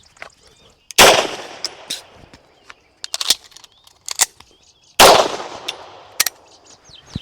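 A Beretta M9A4 pistol fires sharp, loud shots close by during a reload drill, two big reports a few seconds apart among clinks and handling clicks of magazines and gear.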